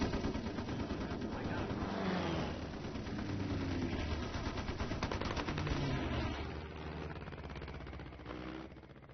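Machine gun fire from German fighters attacking WW2 bombers over England and the Channel, dense bursts of rapid gunfire with engine drone beneath, loud and continuous, mixed with music and narration.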